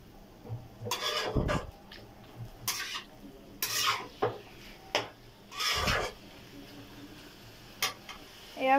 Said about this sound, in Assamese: সেইবাবে এতিয়া আৰু অকল মিক্স কৰিছোঁ।